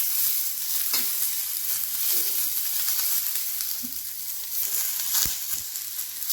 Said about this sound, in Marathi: कांदा असा सोनेरी होईपर्यंत भाजून घ्यायचा म्हणजे ग्रेव्हीमध्ये त्याचा छान कलर उतरतो.